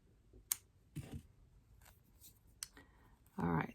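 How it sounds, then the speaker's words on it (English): Scissors snip embroidery floss while finishing a cross-stitch candy cane piece, giving a few sharp, close cuts spread over the moment with brief quiet gaps, ending in a louder rustle. "And then we can just snip it."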